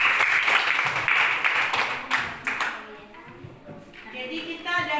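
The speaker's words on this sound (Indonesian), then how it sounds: "Oke, tepuk tangan untuk kelompok 3." A class audience claps for a student group in a classroom, with dense, lively applause that thins out after a few seconds as a voice begins talking.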